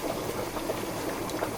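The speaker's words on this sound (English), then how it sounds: "And our sauce is boiling." Fettuccine Alfredo sauce boils in a pan, giving a steady, close bubbling and popping hiss that runs evenly throughout without any voices.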